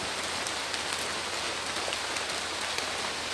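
Steady rain falls outdoors over garden soil where bamboo is being planted, a constant dense hiss of drops throughout.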